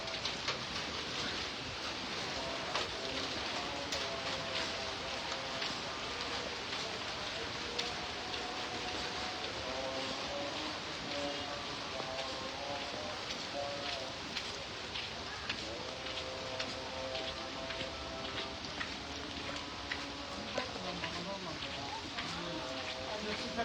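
Rain comes down in a constant even hiss, spattering nearby for the full length, while people talk over it throughout.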